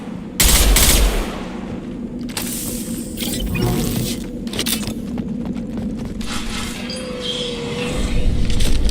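Gunfire in the Mass Effect Legendary Edition video game: a loud opening burst followed by repeated bursts of automatic weapon fire and sharp shots, with mechanical clatter and no speech over it.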